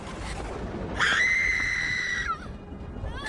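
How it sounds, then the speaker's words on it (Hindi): A woman's painful scream from inside a hut during childbirth on a stormy night, one sustained high shriek of about a second and a half that breaks off, alone over a low rumbling storm background. "अचानक झोपड़ी के अंदर से एक दर्दनाक चीख सुनाई दी"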